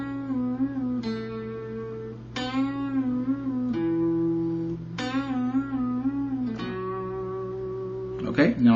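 Electric guitar playing a song part, with a series of plucked notes bent upward and pulled off, ringing over a sustained low drone, clear and close, ending in a brief noisy scrape.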